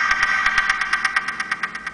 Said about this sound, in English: DJ Cycle Sound UI, which you can download in Cydia, lets you do sounds like this.